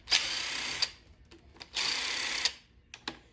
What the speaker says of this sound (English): We'll pull our valve covers off.